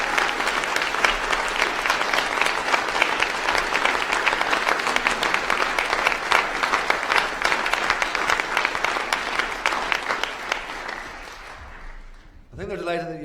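A graduation ceremony audience at Ulster University's Jordanstown campus gives sustained, dense applause in a large hall, holding steady for about eleven seconds before tapering off, followed by a brief voice at the end.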